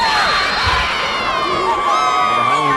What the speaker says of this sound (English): The Highland fans cheering on their team